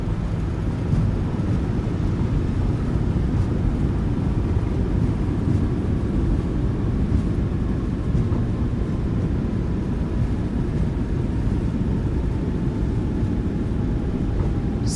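Thrust reversers roar on a PMDG 737 after touchdown in Microsoft Flight Simulator, a steady, loud, broadband engine rush with a strong low rumble that holds evenly and close throughout, with no talk.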